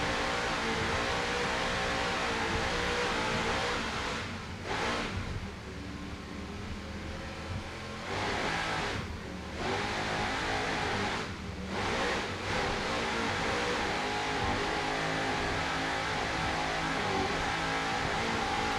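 Onboard a Super V class racing powerboat, Instigator, at the 2002 APBA World Championships: a loud, sustained engine roar with wind rush, dipping briefly a few times as the throttle eases, then surging back.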